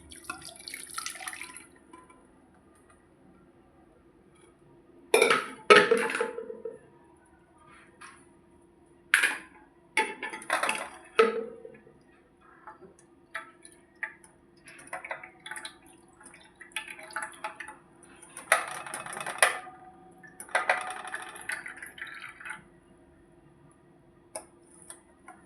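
Hot liquid, freshly churned, pouring and dripping through a strainer in a kitchen, with intermittent splashy bursts and trickling drips separated by quiet pauses, moderately close.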